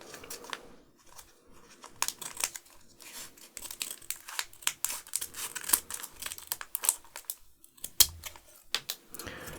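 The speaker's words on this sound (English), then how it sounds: "let's open the pack with the scissors. Make sure we don't cut the cards" Scissors cut open a Pokémon card pack in a quiet close-up setting, giving crisp snips and crinkly foil rustles in irregular bursts that grow busier toward the end.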